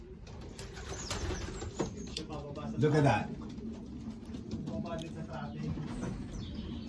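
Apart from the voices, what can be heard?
young pigeons cooing in loft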